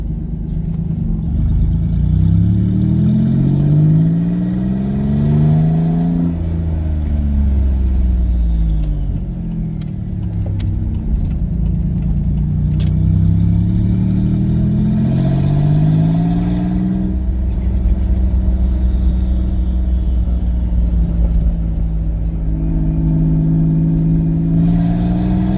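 Engine of a twin turbo V6 Ford Mustang, just fitted with a swapped fuel pump, heard from inside while driving: loud, continuous drone rising and falling through gear changes, pitch sweeping up under acceleration then dropping, with faint turbo whistle above.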